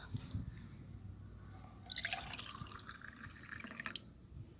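Papaya peel liquid fertilizer is poured onto potted flowering plants, giving a soft splashing trickle for about two seconds amid light dripping, fairly quiet and close.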